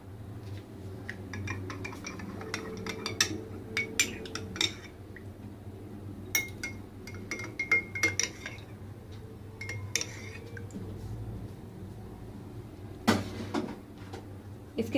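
A spoon stirs falooda ingredients with basil seeds in a glass, giving scattered light clinks and taps against the glass over a quiet kitchen background, irregular and close.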